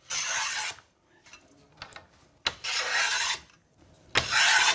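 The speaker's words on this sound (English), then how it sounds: "once all the ebony's glued on, it's then got to be taken down and rounded off" A hand plane shaves glued-on ebony down on a snooker cue, giving three long, bright rasping strokes with short clicks and pauses between them, close and fairly loud.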